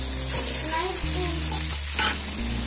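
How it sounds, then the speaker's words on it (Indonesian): Stirring fried tuna pieces with taro stalks in a pan, a steady close sizzle of frying with scraping and stirring throughout. "Kemudian kita aduk-aduk ya seperti ini."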